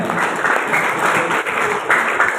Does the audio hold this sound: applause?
yes